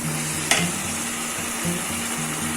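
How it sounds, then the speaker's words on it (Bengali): Onions frying lightly in a pan give a steady close sizzle with a few soft stirring clicks and no talking. "পেঁয়াজটা হালকা ফ্রাই হয়েছে, কাঁচা পেঁয়াজের গন্ধটা চলে গেছে"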